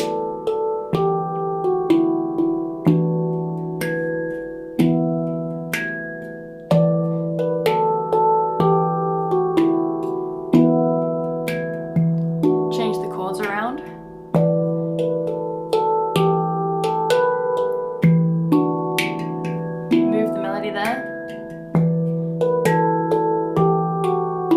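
A handpan plays a flowing melody with layered harmonies, each struck note ringing and decaying in a steady, unhurried rhythm, played solo without talk.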